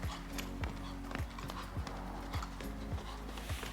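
Horse being ridden at home, its hooves striking the ground in a steady, regular rhythm of about two beats per second, moderately close and clear with a low rumble underneath.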